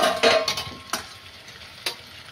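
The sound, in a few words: potatoes added to frying mutton curry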